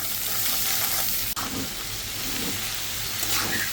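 Egg and onion fry in a pan with a dense, continuous sizzle and hiss that briefly drops out for an instant, then carries on evenly.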